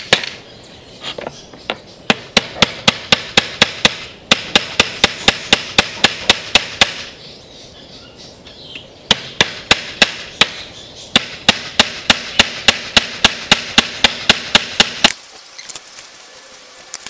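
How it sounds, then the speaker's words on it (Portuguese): Steel nails hammered into very hard old wood for a garden ornament made from a salvaged window: sharp, ringing hammer blows in fast rhythmic runs of many strikes with brief pauses between runs, close and loud, with no talking. "Eu vou usar um prego também, que ele não enferruja, que são pregos de aço."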